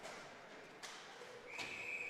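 During a boys' high school ice hockey game, a referee's whistle sounds faintly at the end as one sustained shrill blast, rising over distant arena noise and scattered thumps from the rink.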